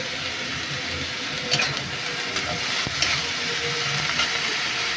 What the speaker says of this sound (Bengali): বেগুন দিয়েছি, বেগুন দিয়ে নাড়ছি ভালো করে।